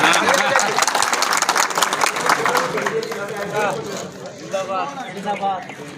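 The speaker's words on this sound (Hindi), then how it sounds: "तालियां तो बताओ यार" Audience clapping at a National Safety Week event in Jamnagar, a dense patter of many hands, loud at first and thinning toward the end, with someone talking over it throughout.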